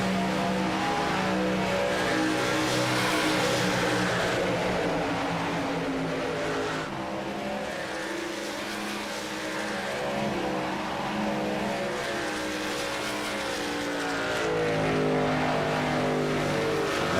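Racing trucks run laps on a track, their engines droning and revving continuously at close range in a dense layered roar that stays loud throughout.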